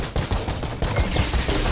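Basic guns firing in the shooter game Outriders, a dense run of sharp, loud shots crackling in quick succession with no gaps, close and alone.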